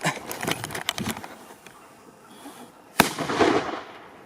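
An H3 Achtung firecracker goes off outdoors with one sharp, loud bang, followed by a short rumbling echo, after a stretch of background noise and faint crackles.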